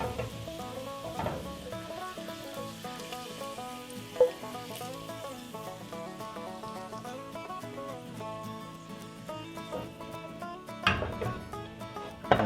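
Onions frying in oil in a pan while making refried beans, a steady soft sizzle with occasional utensil clinks and knocks, close and fairly quiet.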